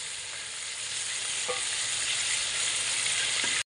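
Half a kilo of tomatoes hitting a pan of Shinwari chicken karahi in a Pakistani village kitchen, a loud continuous hiss of frying with a brief clatter of stirring, close and steady without voices.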